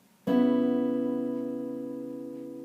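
Several guitar strings are plucked at once in a single chord, ringing out clearly after one sharp attack and slowly decaying, alone without talk.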